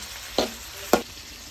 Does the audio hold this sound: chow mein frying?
yes